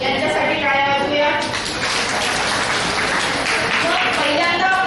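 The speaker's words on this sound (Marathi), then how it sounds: "यांच्यासाठी टाळ्या वाजवूया." A workshop audience applauds in a dense, steady wash of clapping that stays loud and even for several seconds, with faint voices mixed in underneath.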